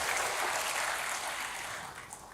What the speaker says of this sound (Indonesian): Yang mengasihi Tuhan, berikan tepuk tangan bagi Tuhan.